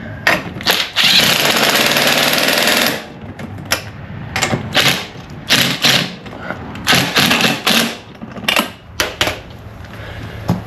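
Buzzing bursts from a power tool tightening bolts in a star pattern on a 125 Blazer, a long run first and then a series of short, choppy pulses close by.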